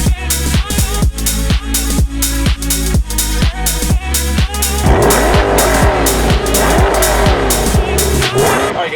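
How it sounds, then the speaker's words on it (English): A mid-engine C8 Corvette revs in a string of rapid, evenly spaced bursts, then pulls away under a steady, building engine roar with shifting pitch, loud and close throughout. "revving out that mid-engine Corvette"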